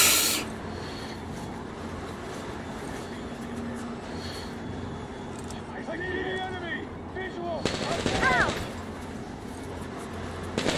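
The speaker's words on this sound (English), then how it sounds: "Where the hell are they shooting at?" Gunfire in the shooter Metro Exodus, a dense rumbling rattle of distant shots and booms under a continuous gritty background, with a louder swelling burst near the end and brief pinging tones mixed in.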